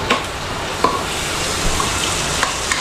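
Onions sizzle steadily in a hot pan, a continuous crackling hiss with a few soft clicks of stirring, close and alone without talk.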